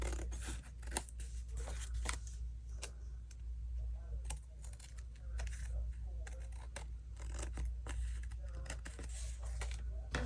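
Scissors trimming envelope paper around a vintage postage stamp card, a close series of quick crisp snips and cuts repeating irregularly over a low steady hum.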